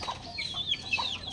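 Chicks clucking and peeping in a pen, several soft high calls overlapping in a steady chatter at moderate distance, with no voices.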